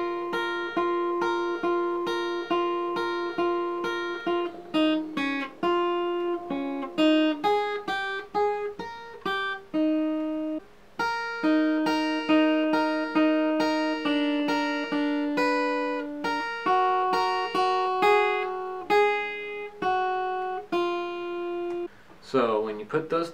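Close, clear guitar fingerpicking: plucked notes ring in a repeating pattern over a steady bass, with shifting chords and no voices.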